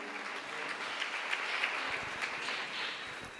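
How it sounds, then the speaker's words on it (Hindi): A church congregation claps after a healing testimony, a dense, even wash of hands at moderate distance lasting the whole stretch, with little talk over it. "एक बार जोरदार ताली बजाएंगे।"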